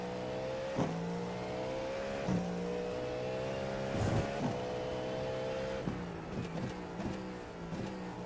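Race car engine in the iRacing sim at Daytona, a steady loud drone with rising revs as the rear tyres spin up in first gear, several sharp shift or bump spikes along the way.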